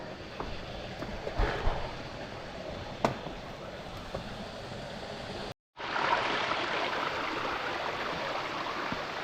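Water flowing at the bottom tier of the hidden waterfall at Pages Pinnacle: a steady broadband rush that cuts out briefly, then returns louder and fuller and holds evenly to the end.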